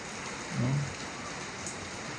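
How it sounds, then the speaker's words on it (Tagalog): Monsoon rain falls steadily during flooding in Navotas, a soft even hiss throughout with a brief low thump early on. "Yung ulan dito pa bugso-bugso."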